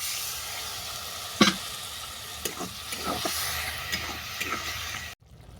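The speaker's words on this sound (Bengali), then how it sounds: "এটাকে আমি ভালো করে ভেজে নেব।" Okra frying in a pan for a bitter leaf-and-okra curry: a steady close sizzle with occasional scraping stirs of the spatula, no voice, ending abruptly.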